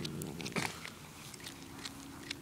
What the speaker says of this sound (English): you can hear him chewing it